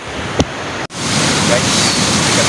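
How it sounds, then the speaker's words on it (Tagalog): Strong ocean waves crash on a fishing trip, forming a loud, steady roar of surf mixed with wind buffeting the microphone, broken by one brief dropout. "Sobrang lakas ng alon."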